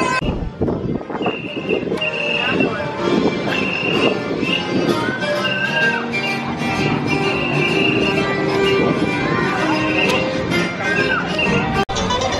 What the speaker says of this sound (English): We're looking at the trains, the little model village in Germany.